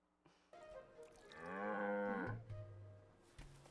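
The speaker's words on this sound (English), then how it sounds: "They animated the fuck out of milking that cow." A cow in the Frieren anime gives a long, loud moo while being milked, rising in the middle and trailing off into low rumbling, with no talk over it.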